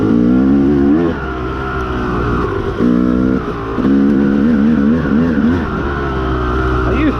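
A 2002 Honda CR250 two-stroke dirt bike rides a sandy, rooty trail, its loud close engine wailing and revving up and down, briefly easing off between bursts of throttle.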